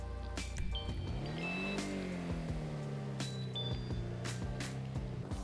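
A Toros SUV in GTA 5 rolling outdoors, its engine humming steadily and rising in pitch as it accelerates before settling, with occasional sharp clicks and faint tonal game sounds, nearby and moderately loud.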